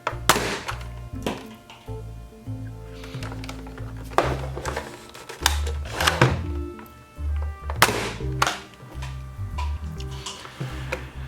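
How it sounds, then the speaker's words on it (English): Hellhound foam dart blaster being primed with its mag release lever tripped, a run of sharp plastic clicks, thunks and taps close up, repeated at an uneven rhythm over a low steady background hum. "So when you prime the blaster, then you trip that"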